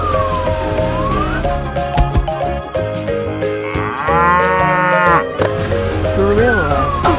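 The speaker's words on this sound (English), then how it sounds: "Cow." A cartoon cow in a 3D animated animal show lets out drawn-out, wavering moos over steady background music.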